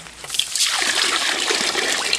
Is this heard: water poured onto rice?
yes